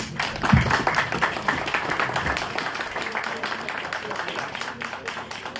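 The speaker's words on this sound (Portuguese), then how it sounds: "uma salva de palmas para ela" An audience at a tenth-anniversary event of the American Club applauds a speaker: a full round of clapping that peaks early, then continues steadily at a slightly lower level for several seconds.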